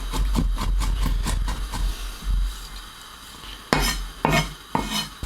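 Gherkins being chopped into small chunks with a knife on a board, a quick run of rhythmic sharp taps at the start, then a pause and a few louder separate chops near the end.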